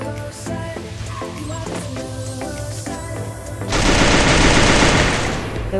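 Rapid automatic gunfire in Free Fire rattles out in a fast, loud, rhythmic stream, then a heavier roaring burst takes over for the last couple of seconds.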